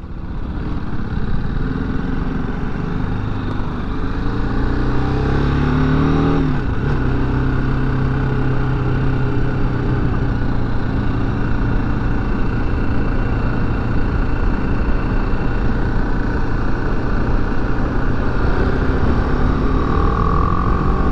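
A BMW G310GS motorcycle on a test ride, its engine droning steadily and close with a rise in pitch as it accelerates through a gear change, then holding a constant hum under wind noise.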